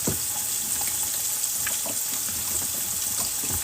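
Tofu steaks sizzle steadily in a pan as they brown on one side, a constant close frying hiss with small scattered pops and crackles throughout.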